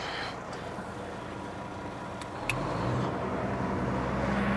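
Foam 34 fire truck engine running at high idle, a steady low rumble that steps up slightly in level and pitch partway through, heard up close with no talking.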